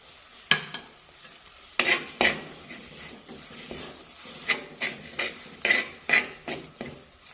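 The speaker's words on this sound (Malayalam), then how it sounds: "ഇതും കൂടെ ചേർത്ത് നന്നായി ഇളക്കി കൊടുക്കാം. സ്വല്പം കുരുമുളക് കൂടെ ചേർത്ത് കൊടുക്കാം." Black pepper powder being stirred into fish curry masala in a pan, a low sizzle under repeated sharp clinks and scrapes of the utensil against the pan in an uneven rhythm, close and clear, no voices.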